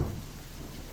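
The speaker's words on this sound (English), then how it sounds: "Sound of a sparse rain could be heard outside the window." Soft, steady video game rain patter outside a window, with a low rumble underneath, faint and even throughout.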